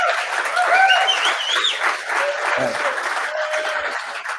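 Audience applause for nerds at a blockchain and innovation talk, a dense continuous round of clapping with some cheering mixed in, close and loud throughout.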